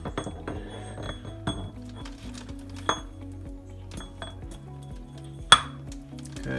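Metal parts of an early H55F manual transmission clink and knock during reassembly as first gear goes onto the shaft; scattered light metallic taps and one sharper clank, close and fairly quiet, with no talking.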